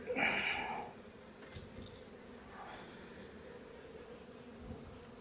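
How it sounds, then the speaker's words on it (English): A honeybee buzzes briefly up close at the start during installation of a wild colony from a log into a hive, then fades into a low, faint hum against a quiet background. "We just got some really confused bees right now."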